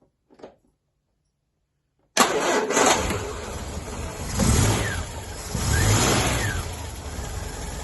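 A Sceptre car engine with new spark plugs cranks and catches suddenly after a moment of quiet, then settles into a steady running idle with a couple of gentle revs, heard close with no talking.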